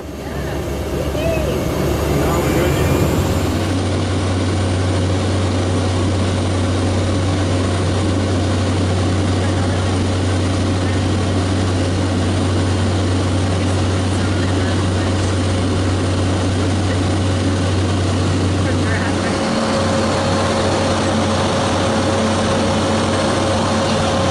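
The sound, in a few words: Cessna 206 propeller plane in flight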